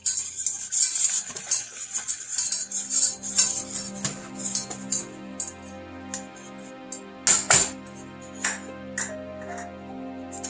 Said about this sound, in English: we're going to add our 3 tablespoons of flour, and we're going to whisk as we do that